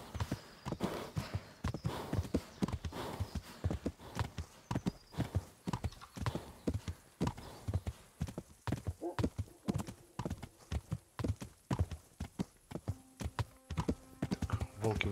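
Close, loud hoofbeats of a horse in Kingdom Come: Deliverance, clopping in a steady trotting rhythm for about fifteen seconds, with a faint neigh and scattered game sounds behind.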